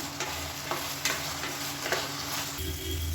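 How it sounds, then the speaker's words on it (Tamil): Soya chunks and potatoes fry in hot oil for a lunch-box dish, giving a steady close sizzle broken by scraping stir strokes every half second or so. "இப்போ சோயாவும் உருளைக்கிழங்கும் நல்லா ஃப்ரை ஆயிடுச்சு"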